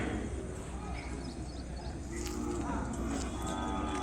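Ongole calves at the Kodad cattle market, a busy outdoor livestock market, with steady crowd noise and a faint moo from the cattle. Voices talk throughout.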